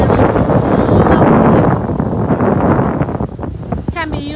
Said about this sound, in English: I don't know if you can hear the wind. It's a little windy today